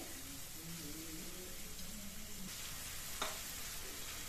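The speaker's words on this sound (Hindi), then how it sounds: "अब डाल देंगे इसमें दो बड़े प्याज बारीक कटे हुए इन्हें भी आप अच्छे से भून लीजिए" Finely chopped onions with ginger frying in a pan for methi palak paneer, a quiet, steady sizzle with light stirring scrapes and a brief clink near the end.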